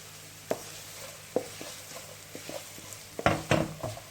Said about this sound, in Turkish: Hemen şöyle bir tur karıştırıyorum lezzetini alsın